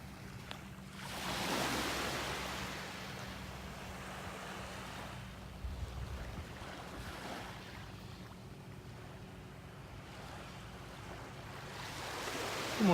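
Ocean waves washing onto a beach on an early morning, heard as broad, rolling surges that swell and fade, with some wind buffeting the microphone and no talking.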